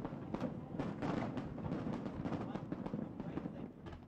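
Fireworks burst over the 1997 Hong Kong handover celebrations in a dense, faint run of rumbling booms and crackles, with a voice talking over them.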